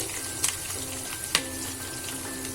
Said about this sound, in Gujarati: આપણે રાઈ એકદમ સરસ ફૂટવા દેવાની છે.